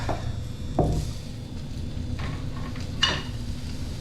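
Okra cooking in a pan of hot oil: a quiet, low sizzle with a few sharp stirring scrapes, heard close by.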